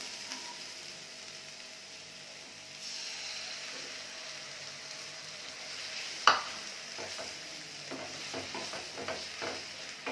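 Beaten egg poured into a hot pan of sautéed onions and stirred for an egg poriyal, a steady frying sizzle with soft scraping stirs and one sharp utensil clink midway.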